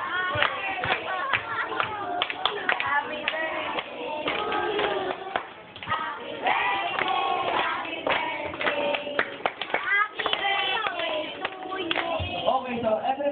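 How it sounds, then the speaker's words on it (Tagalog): Guests at a child's christening and first birthday party clap in steady rhythm throughout, the hand claps sounding amid a group singing and cheering together. "Dapat may kasama naman ang palakpak."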